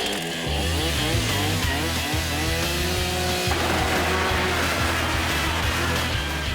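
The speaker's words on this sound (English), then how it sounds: "If Jamie can start the chainsaw." A chainsaw roars steadily as it cuts into the body of a small airplane, loud and close throughout with the engine pitch shifting as the blade bites.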